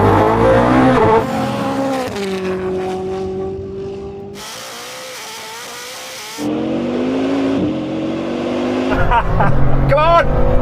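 Bugatti and Koenigsegg 1600 hp hypercars racing, their engines roaring loudly as they accelerate, with shifts and a tire squeal, while excited voices talk and shout over the noise.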